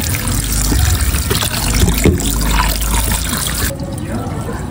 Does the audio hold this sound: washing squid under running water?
yes